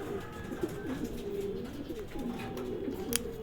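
Racing pigeons coo steadily at the loft during a derby race, a dense overlapping chorus of soft, throaty murmurs close by, with a few faint chirps above.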